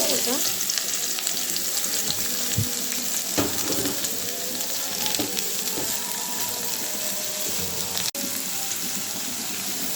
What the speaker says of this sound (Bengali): এখন আমি কুমড় পেঁয়াজ কাঁচামরিচ একসাথে দিয়ে দিচ্ছি